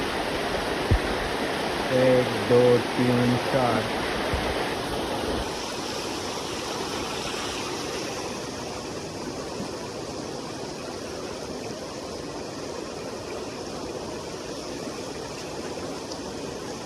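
Floodwater surges across a blocked road in a flood-hit part of Assam, a steady broad rushing wash that runs the whole way, with a few voices talking briefly near the start.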